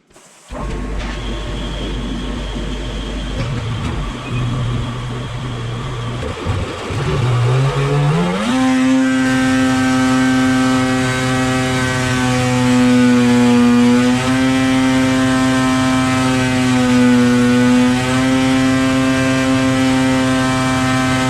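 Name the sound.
800 E-TEC engine running on dyno with big mouth muffler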